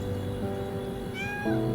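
A cat meowing in the Wuthering Waves video game, a single drawn-out tonal meow rising over a quiet game soundtrack with a low ambient hum, fairly soft and with no voices.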